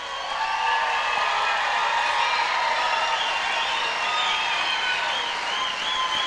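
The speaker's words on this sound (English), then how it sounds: "So come on, give them a rousing welcome and an applaud." Steady, sustained applause from an awards-show audience at the Native American Music Awards, a dense wash of clapping with scattered cheers and whoops, even in loudness throughout.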